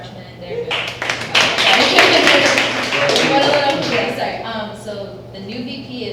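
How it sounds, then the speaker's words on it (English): A student government meeting audience bursts into a dense round of clapping that swells quickly, holds for several seconds, then tapers off, with voices mixed in. "so round of applause, freshmen, they're good."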